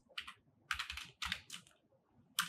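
Template code typed on a computer keyboard in quick bursts of clicking keystrokes with short pauses between them, close-up with no voices.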